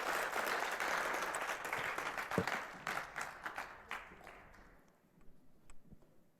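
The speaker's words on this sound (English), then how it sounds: "Let's give them a little round of applause again as they go off." Church congregation applauding at a family meeting, a dense wash of clapping from a sizeable crowd that holds steady for several seconds, then thins out and fades to a few scattered claps.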